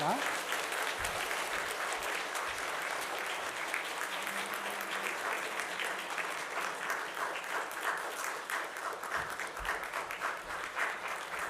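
A church congregation gives a sustained round of steady applause during a Sunday morning service, dense clapping that continues evenly throughout at moderate volume.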